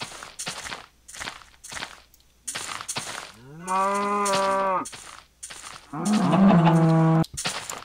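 Two drawn-out cow moos in a Minecraft-style video game, each a steady tonal low bellow, following a run of regular footstep thuds; no talking.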